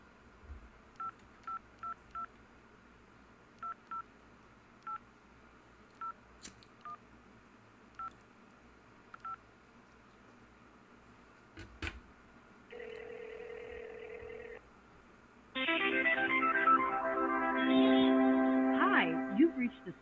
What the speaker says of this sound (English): Make that phone call.